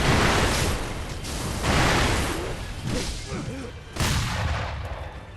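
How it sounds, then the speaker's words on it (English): Firecrackers go off in Sekiro: Shadows Die Twice, giving three loud, crackling bursts a couple of seconds apart, each fading into a rough rumble. "Firecrackers!"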